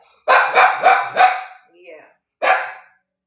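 A dog barking indoors, four loud, close barks in quick succession, then a softer whine and one more bark after a short pause, with no talk over it.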